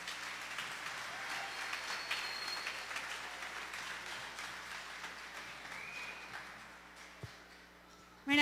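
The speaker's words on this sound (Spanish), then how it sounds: "Fuerte el aplauso." At a children's school festival, the audience applauds a fourth-grade class presentation; the clapping is quiet and distant, fading gradually toward the end before a short thump and a sudden louder noise right at the close.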